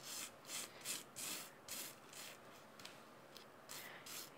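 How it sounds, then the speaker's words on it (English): Glitter flakes are rubbed by hand across a die-cut lace card to burnish them in, giving soft, repeated scratchy swipes in an uneven rhythm, close and quiet, with no talking. "you can take away the excess here just by rubbing"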